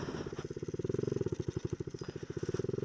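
Small Honda Z50 mini motorcycle engine revving while being ridden over bumpy grass, a steady loud pulsing putter with rapid rhythmic firing throughout, labouring slightly as if in too high a gear.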